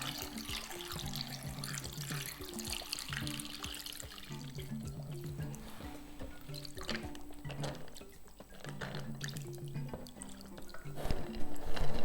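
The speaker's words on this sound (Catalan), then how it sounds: "Bé, doncs les cobreixo d'aigua." Water runs steadily from a tap into a pot of beans, a continuous splashing flow with faint music underneath.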